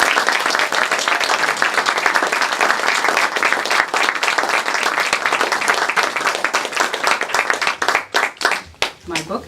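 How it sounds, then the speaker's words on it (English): An audience at a bookstore author event claps in a loud, sustained round of applause that thins to a few scattered claps near the end. "please give a round of applause to Nancy Jane Hill"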